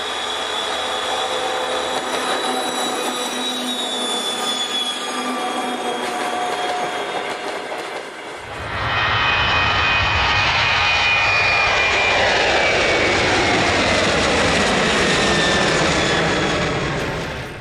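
A 2TE116 diesel locomotive, nicknamed "Boeing", runs at high revs with a loud, sustained jet-like whistle. Partway through, a deeper, rumbling roar swells beneath the shrill tone and stays close and dense to the end.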